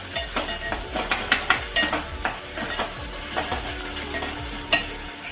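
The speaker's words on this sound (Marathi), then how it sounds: "आता आपण याच्यामध्ये टाकणार आहोत टॉमॅटो आता मिक्स करून घेऊया" Tomatoes stirred into cooked onions in a hot pan for spinach besan bhaji, a steady sizzle with rhythmic spoon scrapes and taps against the pan, close up.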